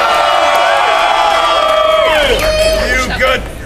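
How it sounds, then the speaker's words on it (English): A large crowd cheers and whoops at an outdoor Tax Day 2010 Tea Party rally in Austin, Texas, loud and sustained with overlapping shouts and voices close by. "Make some noise! Come on!"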